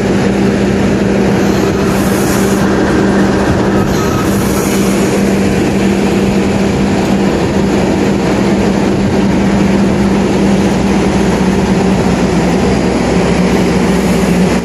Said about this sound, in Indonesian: Sedang dilakukan proses pemasangan lokomotif dengan rangkaian Argo Cirebon.